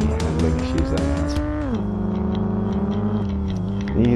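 Car in a racing video game, its engine droning with stepped pitch shifts as it changes speed, tires squealing near the start and again at the end, loud and close with no talk.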